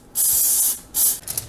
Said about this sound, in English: now I'm gonna give it a good spray with cooking spray